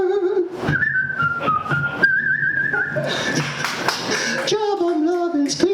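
A person whistles a bright, lilting melody, with sustained held notes and quick runs, accompanied by light taps and shuffling.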